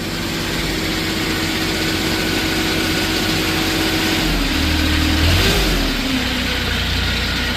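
A 2016 Moffett M8 forklift drives with a steady, loud mid-pitched engine drone, rising slightly partway through with no talking over it.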